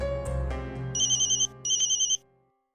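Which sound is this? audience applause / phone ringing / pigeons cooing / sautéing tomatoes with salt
phone ringing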